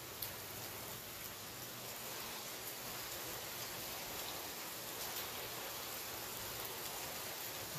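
Steady rain falls in a constant soft hiss, with scattered drops pattering on surfaces nearby; no voices.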